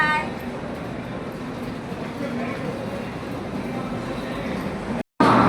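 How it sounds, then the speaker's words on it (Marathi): Railway noise at a large old station in Nagpur, a steady rumbling train sound with a constant broad roar, moderately loud, ending with a short gap. "तर चला निघूया, ट्रेन आलीच असेल."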